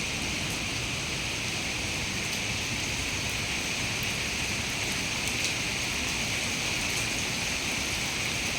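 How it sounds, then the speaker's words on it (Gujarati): Heavy rain pours down steadily, a dense, unbroken hiss that holds at the same loudness throughout, with no voices over it. "અટાણે હાડા નવ થયા એટલે વરસાદ પડે છે"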